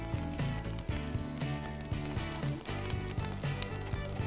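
Onion sizzling on a hot REC TEC grill griddle alongside cooked rice for fried rice, a steady close frying hiss with music underneath and no talk.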